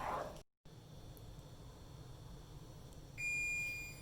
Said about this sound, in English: our timer has gone off here